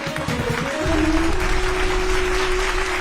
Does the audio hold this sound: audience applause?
yes